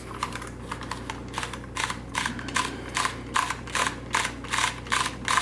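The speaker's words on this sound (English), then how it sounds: "I would recommend holding the paper onto the take-up spool a little bit, you're just going to turn" Crank of a Holga 120 medium-format camera being turned to wind film onto the take-up spool, giving a steady series of close, dry ratcheting clicks in repeated bursts with faint hum beneath.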